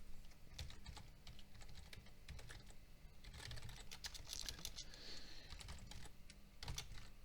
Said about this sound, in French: je tape mon adresse mail